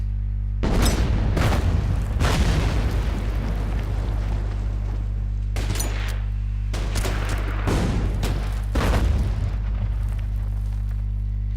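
Booming explosions hit an anti-tank gun in a WW2 strategy game, a couple of heavy blasts followed by more loud impacts, all over a constant deep rumbling drone.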